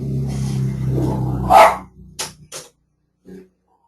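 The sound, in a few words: dogs barking while working from home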